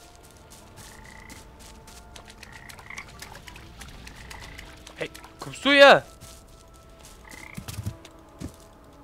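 Frogs croak in the video game PaPo & Yo, giving scattered short croaks and one loud, drawn-out warbling call near the middle, while someone speaks briefly over the background.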